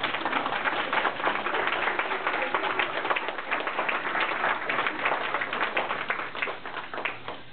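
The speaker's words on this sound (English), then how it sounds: "can we please give these people a round of applause?" Sustained applause from an audience of parents and Cub Scouts at a Pack 623 religious emblem ceremony in Portola Hills, California, dense and steady throughout before tapering at the end.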